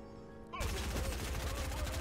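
Fortnite gunfire in a henchmen-weapons match: a sudden burst of rapid shots starts after a quiet moment and keeps going as a loud, steady rattle.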